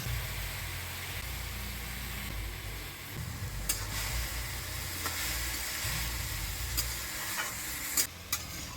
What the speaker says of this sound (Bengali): হলুদ লবণ দিয়ে ভালো করে নাড়াচাড়া করে নিলাম।